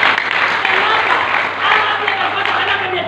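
A church congregation claps during a sermon, a steady wash of applause over about three seconds, fairly loud and mixed with voices.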